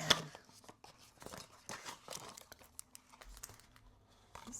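Flat paper packaging from a washi tape order being folded and crinkled by hand, a close series of irregular crumpling and creasing rustles with short pauses between handlings.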